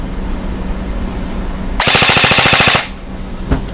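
A Poseidon Triton airsoft sniper rifle, set to full-auto on its selector, fires a loud, rapid burst of about a second, a fast even string of shots that stands out sharply from the quiet room before and after.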